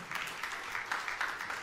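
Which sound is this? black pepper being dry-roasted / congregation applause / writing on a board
congregation applause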